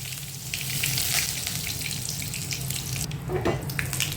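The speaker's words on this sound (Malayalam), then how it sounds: "കുറച്ച് കടുകിടാം കറിവേപ്പില കൊടുക്കാം" Mustard seeds and curry leaves splutter in hot oil, giving a steady close sizzle with small crackling pops scattered throughout.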